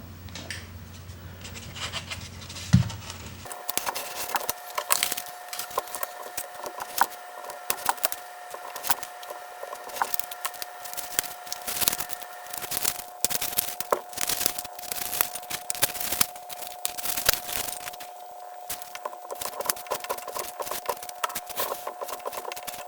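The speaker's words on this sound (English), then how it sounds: "take cheap dollar store foam core, the type with the removable back, and cut 2" by 3" strips" Cheap dollar store foam core board with a removable backing being sliced into small strips, a steady run of close scraping, rasping cuts repeating over a faint constant hum, with no talking.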